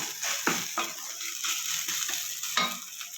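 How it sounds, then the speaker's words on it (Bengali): Onions sizzle as they finish frying in a pan, a constant close crackle broken by several sharp stirring scrapes and knocks of a utensil. "আমার পেঁয়াজটা ভাজা হয়ে গেছে।"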